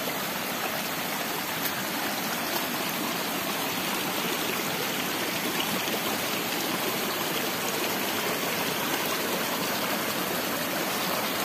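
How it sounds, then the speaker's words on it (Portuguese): A series of small waterfalls pours over a flat rock slab in the dry backcountry, a steady, dense rush of water that holds constant at moderate distance with no voices. "É uma sequência de várias pequenas cachoeiras."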